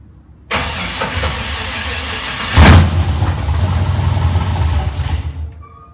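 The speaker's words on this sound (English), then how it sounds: "For that first startup of that engine." The LS-swapped V8 in a 1981 Chevy Malibu cranks and fires on its first start, catching with a loud burst, then settling into a rough, rumbling idle before cutting off, close and loud.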